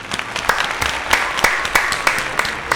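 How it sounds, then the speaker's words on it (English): A crowd applauds steadily, sharp individual claps blending into a dense, continuous wash of clapping at moderate volume. "Round of applause for that one."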